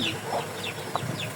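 Soft, scattered chicken clucks over a low background hum, with a few brief higher bird-like calls mixed in.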